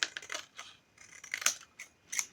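Scissors cutting a sheet of paper, several close crisp snips and slicing strokes in uneven bursts in a quiet room.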